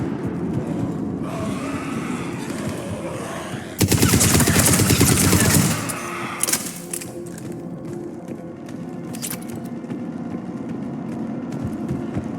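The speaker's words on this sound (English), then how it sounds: "Shepard, I hear gunfire." Gunfire in Mass Effect 3: a loud, dense burst of rapid shots lasting about two seconds stands out over a steady game ambience, followed by a few fainter scattered impacts.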